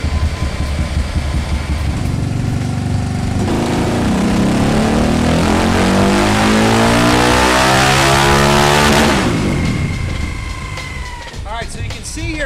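A Yamaha Raptor 700 engine fitted with a KMS Megacycle X7 revs hard on a dyno, a loud, close, rising wail that climbs for several seconds, then falls back to a rough idle.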